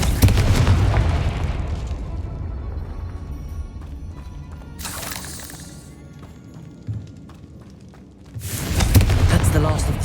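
The Confringo blasting spell goes off in the Hogwarts Legacy video game, bursting loud at the start, then a brief whooshing blast midway and another heavy boom at the end over rumbling game ambience.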